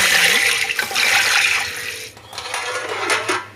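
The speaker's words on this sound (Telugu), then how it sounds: "బాస్మతి రైస్ మంచిగా వాష్ చేసుకోవాలి వాటర్ వేసి టూ టైమ్స్ మంచిగా వాష్ చేసుకున్న తర్వాత" Water poured over basmati rice in a pot as it is washed, a loud continuous splashing and rushing that rises and falls over a few seconds, with faint clinks of the vessel.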